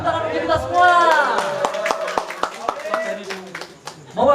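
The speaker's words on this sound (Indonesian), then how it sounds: "Tepuk tangan untuk kita semua." Audience at a 33rd anniversary show of the Teater Kuncup Mekar troupe clapping in a burst of sharp, separate claps, with a voice talking over much of it.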